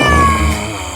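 A house cat lets out one loud, close meow that slides downward in pitch and then fades over about a second.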